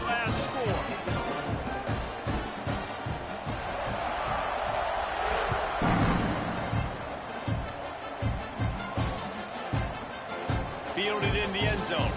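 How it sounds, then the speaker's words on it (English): A football stadium crowd at a Michigan versus Oklahoma game keeps up a loud, restless buzz after a score, with thumps and bursts rising out of it while a commentator talks over the noise. "this crowd is buzzing after that last score"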